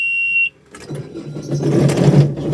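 Engine of a farm sprayer cranks and catches after a key turn, rising into a loud, close running rumble that builds in intensity, preceded by a steady high tone.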